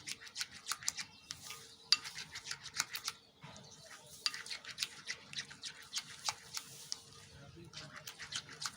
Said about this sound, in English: Stir it gently and make sure you stir properly